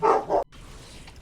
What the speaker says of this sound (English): That was my dog barking.